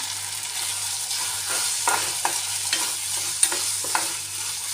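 Vegetables hiss gently in oil in a pan, a steady close-up sizzle broken by occasional sharp spatters and stirring scrapes, with no voices.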